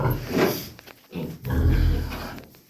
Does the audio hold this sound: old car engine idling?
no